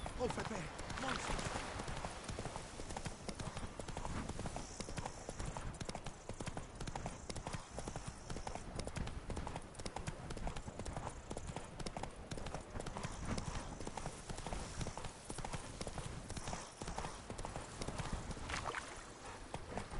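In Witcher 3: Blood and Wine, a horse's hooves clip-clop in a steady trotting rhythm beneath voices and ambient game sound.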